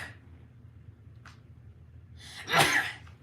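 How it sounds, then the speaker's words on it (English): A single person's sneeze, a sharp breathy burst near the end preceded by a quick inhaled gasp, close and clear over quiet background. "which reminds me I'm about to sneeze"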